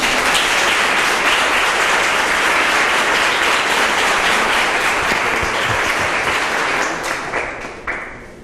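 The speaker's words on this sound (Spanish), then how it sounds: "le damos un aplauso cálido y bienvenido" A congregation at a church conference on mercy applauds warmly to welcome a priest, a loud, sustained wash of clapping that holds steady for several seconds before thinning out at the end.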